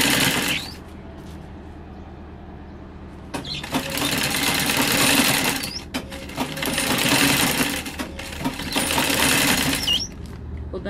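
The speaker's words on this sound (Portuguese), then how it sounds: "E minha máquina de pedal, tá, gente? Deixa eu ver esse barulho." A treadle-pedal sewing machine runs in loud, whirring, clattering bursts of a few seconds each after a quieter start, with faint metallic ticks and no clear talking.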